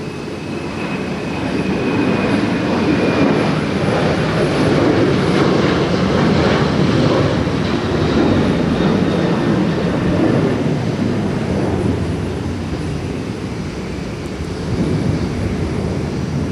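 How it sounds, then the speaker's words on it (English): A heavy jet airliner departs Minneapolis–St. Paul airport, its engines a loud, continuous broadband roar that swells over several seconds and then holds steady without fading, nearby and with no voices. "wasn't that a heavy departure or what?"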